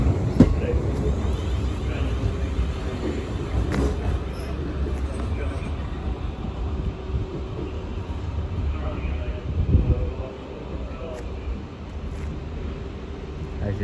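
Train pulling out of a London terminus bound for Hampton Court, a steady low rumble of rolling stock and engine drone lasting throughout, with station ambience and some background voices mixed in.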